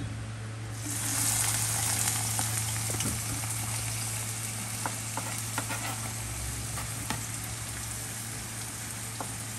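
Onion frying in hot oil in a kitchen pan for a sev bhaji curry, giving a steady, dense sizzle and crackle that carries on alone throughout, with a few sharper pops.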